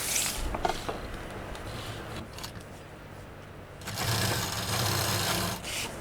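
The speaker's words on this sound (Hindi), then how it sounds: "इसको इस तरह से डबल करेंगे और डबल करने के साथ ही इसको यहाँ पर रखेंगे और एक ही बार में सिल देंगे" Sewing machine stitching doubled half-inch piping in a single pass while making a hanger, a steady mechanical whir that runs throughout, rising louder in the final seconds.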